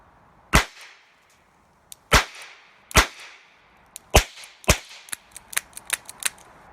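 A Charter Arms Pathfinder .22 revolver fires .22 CB Long and quiet rounds: sharp, close cracks spaced about a second apart, followed by a series of quicker, softer snaps.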